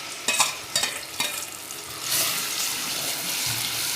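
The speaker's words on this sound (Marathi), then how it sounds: "मसाला परतू द्यायचा तेलामध्ये" Ground masala for Khandeshi mutton fries in hot oil. A steady sizzle builds halfway through, with a few scraping stir strokes before it. No voices are heard.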